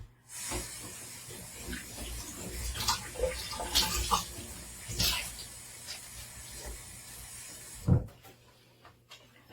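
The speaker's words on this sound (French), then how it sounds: "Je vais le mettre dans l'eau." Dried acrylic-painted paper is dipped into water, making close splashes and sloshing swishes in uneven bursts and ending in one sharper splash, with no voices.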